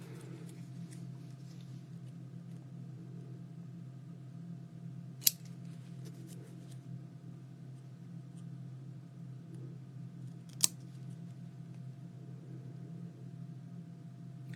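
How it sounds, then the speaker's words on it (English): Scissors snip through paper cards for an artist trading card holder, two sharp, isolated cuts standing out faintly over a steady low room hum with no talking. "you see how easy it is to cut these out"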